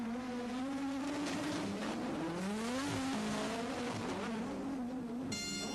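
Formula 1 cars of the 1987 season accelerate out of the pit lane, a loud sustained engine whine with rising and falling pitch sweeps as they gain speed, continuous through the whole stretch with no talk.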